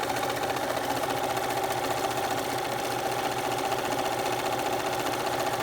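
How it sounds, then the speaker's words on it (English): A sewing machine runs steadily at full speed while stitching coiled rope into a bowl base, producing a loud, even mechanical whir with a rapid needle chatter and no pauses. "So I'm going to keep on stitching, pedal to the metal"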